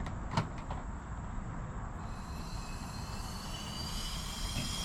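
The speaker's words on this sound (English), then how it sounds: "And you can hear the CNG draining." Compressed natural gas at about 700 psi draining through a slowly opened valve on a 2020 Ford F450 running on CNG: a continuous hiss that grows a thin whistling edge partway through, heard up close without speech.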